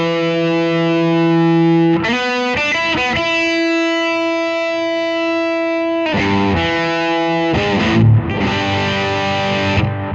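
An electric guitar with humbucker pickups played through a DIY fuzz pedal: heavy distorted sustained chords with choppy rhythmic strums between them, loud and alone.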